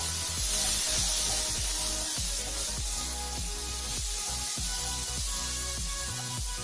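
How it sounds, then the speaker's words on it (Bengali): Coriander-cumin powder and amchur powder fry in oil for a dhaba-style egg tadka, a steady close sizzle with repeated soft scraping strokes of a spoon stirring the pan. "1 চামচ ধনে জিরে গুঁড়ো, 1 চামচ আমচুর পাউডার দিয়ে আবার আমি কষে নেবো খুব ভালো করে।"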